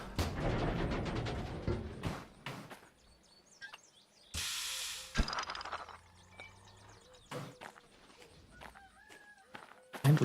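Roosters crow in a farm setting inside the train game Derail Valley, with a few distinct crows spread over the stretch among scattered clucks and short bursts of game noise.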